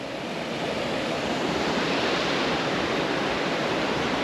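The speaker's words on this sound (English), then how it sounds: "A few good swimming pools here on the river, but there's a bit of a waterfall down there." River Carnoch in the Scottish Highlands rushes over a small waterfall below an old rickety bridge, a steady, loud broadband roar of flowing water filling the whole stretch without pause.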